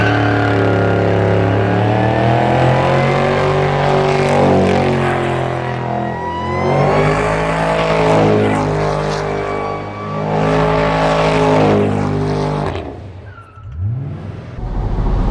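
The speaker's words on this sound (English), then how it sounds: "First drive as the owner of my new 1977 Lincoln Mark V" A 1977 Lincoln Continental Mark V lowrider on airbags drives along with a steady, loud engine drone whose pitch rises and falls as it accelerates and shifts, heard close and continuously.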